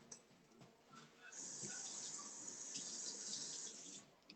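A kitchen tap runs cold water into a sink, a faint trickle that swells into a steady hissing stream and continues to the end.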